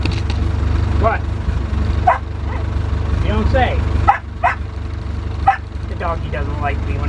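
A dog barks in short, sharp bursts spread across several seconds over the steady low drone of a JCB backhoe digging a ditch in an overgrown pasture, with a person speaking briefly.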